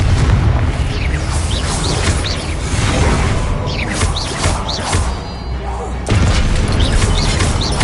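Explosive Confringo spell blasts from the PS5 game Hogwarts Legacy boom loudly and continuously through combat, with crackling bursts and whooshes layered over a dense low rumble.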